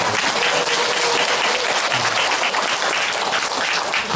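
An audience claps for the event host at a Korean health seminar in Ulsan, dense steady applause filling the room for several seconds without pause.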